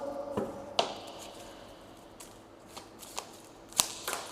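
Tarot cards are drawn from a deck, with a few soft, scattered card snaps and slides over a quiet background.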